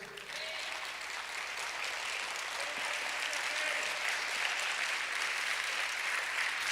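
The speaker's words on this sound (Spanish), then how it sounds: "Y da un aplauso al Señor por eso." A church congregation applauds during a Spanish-language sermon, a steady, even wash of clapping that holds for several seconds from a roomful of people.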